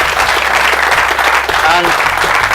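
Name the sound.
audience applause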